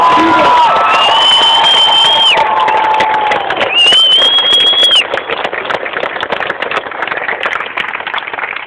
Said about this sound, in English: And please give yourself a huge round of applause.